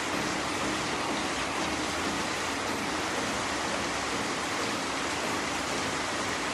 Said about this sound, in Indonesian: terjadi hujan yang sangat lebat dengan intensitas